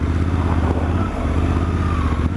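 A 2024 Suzuki DL-800 V-Strom engine hums steadily while riding, a close, even low drone with road and wind noise, no talking.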